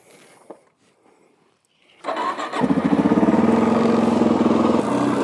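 A Suzuki DRZ400 dual-sport motorcycle carrying a mountain bike on a rear rack starts up and pulls away, its single-cylinder engine thumping loudly and close as it revs and accelerates, after a quiet moment of faint handling.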